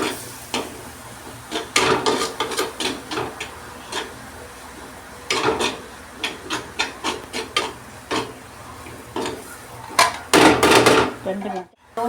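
Fish curry masala with pepper powder, turmeric and tamarind water being stirred and sautéed in a pan over low heat; close, repeated scraping and rubbing strokes come in uneven bursts with short pauses between.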